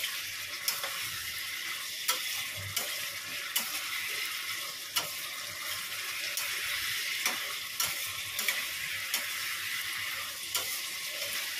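Cauliflower and potato stir-fried in a pan with ginger, cumin, salt, turmeric and sugar, a constant sizzle and frying hiss broken by regular scraping taps of the stirring spoon against the pan.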